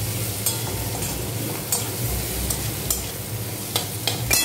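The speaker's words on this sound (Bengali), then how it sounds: "এবার আমি এগুলো নাড়বো। আর এটা একটু ভাজা ভাজা হবে" Vegetables for a cheese pasta sizzle in a pan while being stirred, a steady frying hiss punctuated by regular light clicks and scrapes of the spoon, fairly close and free of talk.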